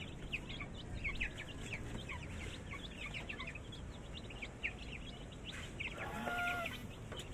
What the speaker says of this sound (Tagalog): Pati gansa po, nakikigulo na siya.